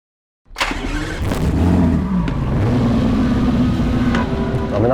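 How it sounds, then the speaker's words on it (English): A classic Lotus 59 race car with a grunty rear-mounted Nissan engine: after a brief silence, a loud engine note cuts in and holds steady and close for several seconds. "Very grunty Nissan engine in the back, as we heard."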